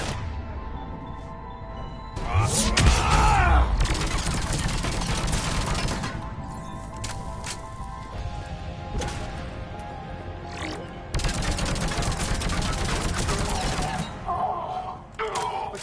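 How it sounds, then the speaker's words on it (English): Heavy gunfire in the Mass Effect 3 video game, with loud volleys and impacts that come in bursts across the clip over a rumbling battle backdrop, and voices talking at times. "Under heavy fire."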